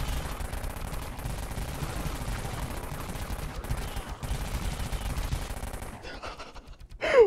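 Pocket cannon fire in the Dead Frontier video game: a loud, dense stream of rapid gunshots rattles on for about six seconds, then cuts off into brief quiet.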